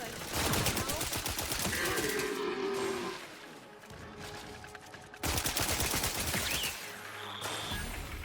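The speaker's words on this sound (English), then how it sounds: "the shock assault rifle is great against the robot enemies" Rapid bursts of shock assault rifle fire against robot enemies in The Outer Worlds 2, dense automatic volleys in two loud stretches with game effects in between, and someone talking at times.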